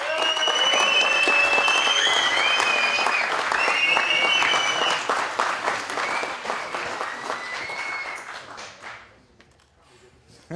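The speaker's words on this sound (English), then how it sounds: "they deserve every bit of applause that you can muster" Big crowd applause and cheering at a Dota 2 esports tournament as a team walks on stage, loud and sustained with whoops and shouts over it, then tapering off into scattered claps and quiet.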